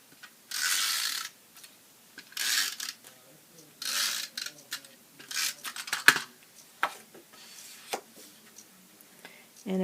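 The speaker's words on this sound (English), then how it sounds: "I'm going to adhere this to the front of the card using snail adhesive." A snail adhesive tape runner is drawn across a greeting card, giving several short ratcheting, clicking rasps in bursts with quiet gaps between them, close and faint, with occasional light handling taps.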